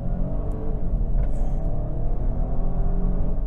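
A new Opel Astra with a 1.2-litre engine accelerates hard from a standstill during a timed launch, a steady loud engine drone heard from inside the car with no talking.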